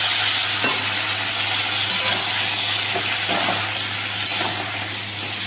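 Fish cooking down in a pan with a coriander-cumin paste and a splash of water, a constant close sizzle broken by occasional spatula stirs and scrapes.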